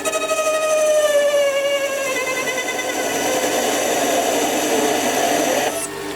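A lathe parting tool cuts a groove into a turning workpiece, giving a sustained, bright ringing squeal with shifting tones that holds steady for several seconds before fading at the end.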